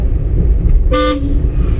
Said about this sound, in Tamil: ஹார்ன் அடிச்சு போடுங்க.